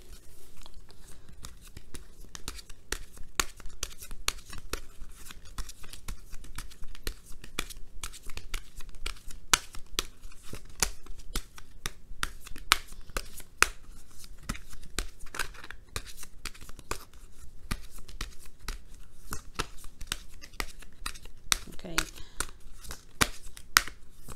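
Continuous papery riffling and slapping of tarot cards being shuffled close by, dense and crinkly, going on without pause and with no talking.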